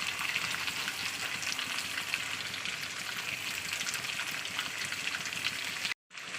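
Banana pieces fry in hot oil with salt and turmeric powder, a continuous close sizzle and crackle like light rain that cuts off abruptly near the end.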